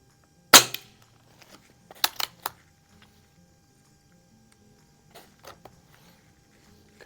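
A Crosman 3622 air gun fires one sharp, loud shot, followed by a quick run of softer mechanical clicks from cycling the action, then a few faint clicks later; no voices.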